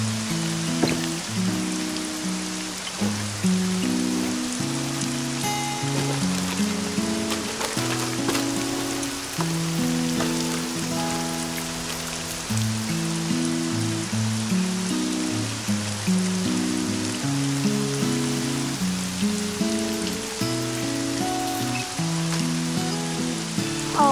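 Steady rain falls continuously as a broad, even hiss, heard beneath prominent melodic background music with no voices.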